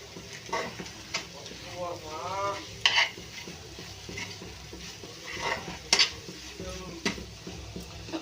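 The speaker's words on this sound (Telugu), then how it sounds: "ఉల్లిపాయలు వేపిస్తున్నాను" Onions fry in a pan with a soft, continuous sizzle, broken by several sharp clinks and scrapes of a spoon stirring against the metal. A person talks quietly throughout.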